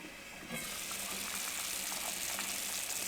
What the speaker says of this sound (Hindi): अब इसको हम ढाँप देंगे और सब्जियों को इस पानी में अच्छे से पकाएंगे